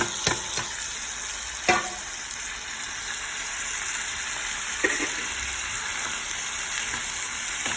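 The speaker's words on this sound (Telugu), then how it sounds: "అవి కొంచెం వేగాక టమాటాలు వేసుకున్నాను." Chopped tomatoes frying in a pan for an okra curry give a steady soft sizzle, broken by a few sharp scraping clinks as a spoon stirs them, with no voices.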